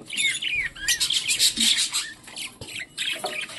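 Budgerigars in a breeding setup chirp and squawk in quick overlapping warbles and short calls, close and fairly loud, with a few faint rustles between them; no speech.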